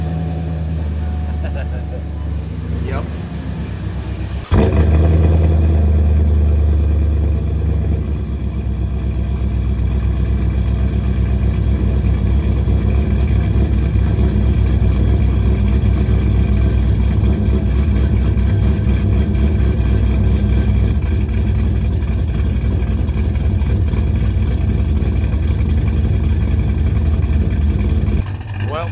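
A Chevrolet Silverado fitted with Corvette exhaust fires up after a few seconds of quiet and settles into a loud, steady, deep rumbling idle that holds close up for the rest of the stretch, with a brief word spoken early on.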